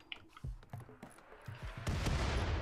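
A few sharp gunshots ring out, then a dense, continuous volley of gunfire takes over, loud and close, a shootout in the video game RimWorld.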